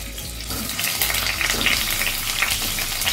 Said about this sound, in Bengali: দিয়ে আমি আলুগুলোকে একদম লাল করে ফ্রাই করে নেব।